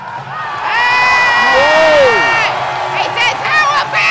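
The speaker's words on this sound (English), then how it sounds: "Everyone's clapping him on." A crowd at the 2017 World Classic Powerlifting Championships cheers and shouts loudly around a lifter in the men's 120+ kg open class, with whistle-like calls and sustained roaring, under a commentator's voice.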